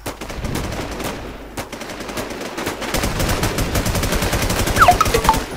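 Rapid bursts of gunfire from the video game WarZ crackle loudly in quick succession, forming dense automatic volleys with a few brief gaps and no talking.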